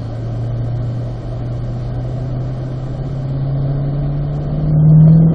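A Chevrolet Corvette C8 at a driving school on a racetrack holds a loud, steady engine drone that rises slightly in pitch near the end, heard close with no talk over it.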